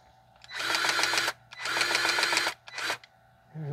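A Milwaukee cordless grease gun whirs in three bursts, the first two long and the last short, pumping grease into a stabilizer link on a 2009 Pontiac Vibe AWD, close up and loud.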